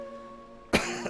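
One sharp, close cough breaks a quiet stretch with a steady hum, followed by a smaller throat sound.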